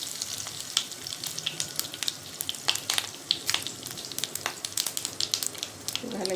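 Curry leaves with mustard seeds hiss and sizzle in hot oil, a steady close frying crackle with scattered sharp pops throughout.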